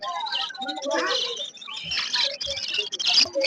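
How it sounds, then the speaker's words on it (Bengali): Budgerigars chirp and twitter at an outdoor bird market, with a steady stream of high, busy calls mixed under close talking voices. "এখানেও বদ্রি পাখি আছে"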